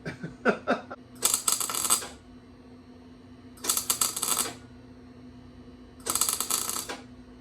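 Tack welds being struck on Bell 429 helicopter landing gear, three separate crackling buzzes about a second long each, separated by pauses, preceded by a few sharp metallic clicks.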